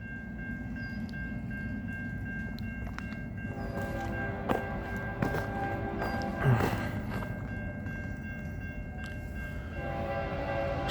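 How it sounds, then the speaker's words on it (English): A CN westbound freight train approaching at night, a continuous low rumble with distant horn tones and faint clanks building gradually, no talk. "we got a CN westbound train coming down the line."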